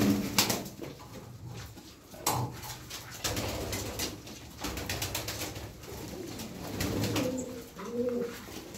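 Pigeons in a loft give soft repeated cooing and occasional wing flutters close by, with light shuffling and rustling noises around them and no voices.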